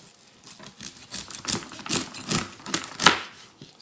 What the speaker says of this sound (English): now we're gonna cut asparagus